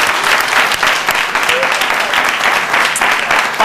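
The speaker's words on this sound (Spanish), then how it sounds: "¡Un aplauso para ellos!" Steady applause from a crowd, loud and sustained with continuous clapping throughout and no voices standing out.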